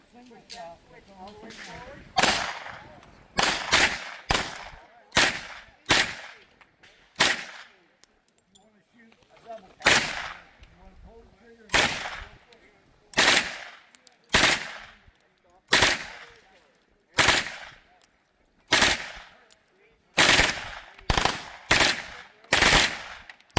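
Machine guns fired on full auto at a youth shooting event, in repeated short bursts spaced a second or two apart across the whole stretch, loud and close with sharp reports.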